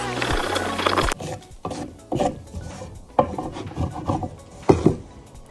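A chisel cuts into a wooden pallet board with a string of short, scraping rasps and knocks in irregular strokes, close and fairly loud, after an opening burst of louder mixed noise.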